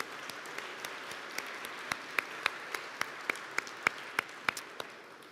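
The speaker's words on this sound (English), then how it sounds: "Let's give them a round of applause too" An audience at an author talk applauds veterans and service members, a steady wash of clapping from a crowd with a few sharper close claps standing out, moderately loud throughout.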